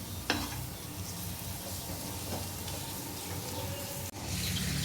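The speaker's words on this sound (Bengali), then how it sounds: "এই ব্লেন্ডারে করা পেঁয়াজগুলো দেওয়া হচ্ছে তেলের সঙ্গে" Blended onion paste with spices, chopped ginger and chilli going into hot oil, giving a steady close sizzle and frying hiss with some stirring noise, and no talk.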